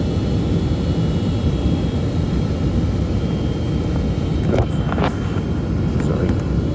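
Inside a Boeing 757 airliner on short final approach, a loud, steady roar of engines and airflow fills the cabin, with a couple of faint thumps partway through.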